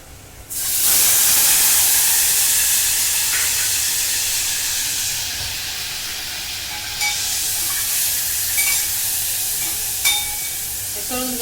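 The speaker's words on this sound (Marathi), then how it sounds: "चांगलं तळून घेऊ पनीर" A loud, steady sizzle of paneer frying in hot oil starts suddenly and carries on with a constant crackling hiss, easing slightly partway through.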